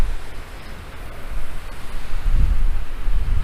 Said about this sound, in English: I'm sitting outside the camper watching the wind blow. It's pretty fierce.